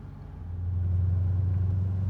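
A 1991 Mercedes-Benz 560SEC AMG engine hums with a low, steady rumble that swells slightly as the car pulls away on a test drive.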